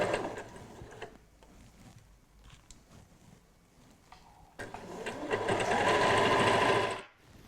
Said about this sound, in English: I'm using the edge of the presser foot as my guide, so I get a nice straight row of stitching